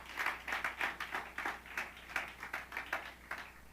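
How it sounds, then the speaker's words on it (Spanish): A church congregation at a Spanish-language service claps together in a quick, steady rhythm, with evenly spaced bursts of hand claps that continue throughout. "vamos a darle un gran aplauso a ese que está allá de último"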